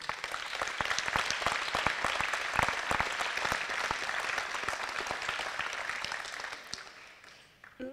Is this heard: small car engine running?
no